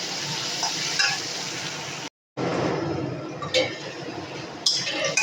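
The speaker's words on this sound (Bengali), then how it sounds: "তাহলে একটু লাল লাল করে আমি ভেজে নিচ্ছি।" Onions and potatoes fry in a pan for a Bengali tengra fish chorchori, giving a loud, dense, continuous sizzle with occasional stirring clinks and one brief cut-out of sound partway through.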